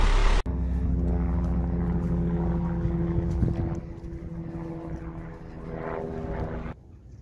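Drone flying overhead near a camper van, a steady buzzing propeller whine holding for several seconds and swelling slightly before cutting off abruptly.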